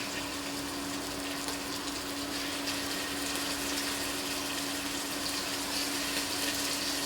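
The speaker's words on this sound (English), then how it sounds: "now I'm going to just put my chunks into my pot. My oil is hot, and so it's going to get all sizzly" Pork chunks sizzling in hot oil in a pot while browning for chili verde, a steady broadband hiss and crackle throughout, fairly quiet and continuous with a faint underlying hum.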